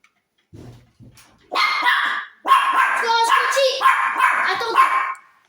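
A dog barks repeatedly in loud, close bursts after a couple of soft low sounds, the barks coming in quick, uneven succession.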